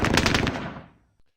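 A short burst of anti-air artillery in the war game Squad Battles: several rapid, heavy thumps in quick succession that fade out over about a second, followed by one faint distant report.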